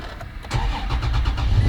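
A car with a keyless remote starts up, with a brief cranking, then the engine catches and settles into a rising, close rumble that holds steady to the end.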